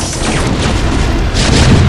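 Tanks trading fire in a strategy video game battle, a dense, loud wash of booms and crashing impacts running continuously through the short stretch.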